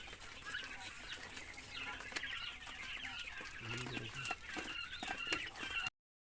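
Young chickens, including a likely young rooster, cluck and peep softly close by with some wing flutters, under a low background hum before the sound cuts off.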